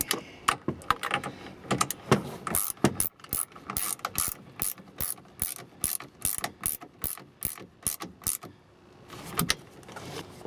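Rapid clicking of a ratchet wrench tightening towing mirror bolts on a Silverado or Sierra pickup, worked in short bursts, close and crisp, with brief pauses between strokes and no talking.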